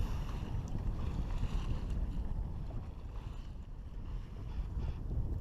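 A sailboat moves along on Lake Erie in moderate wind, giving a steady low rush of wind and water against the hull, fairly quiet and continuous with gentle swells in level.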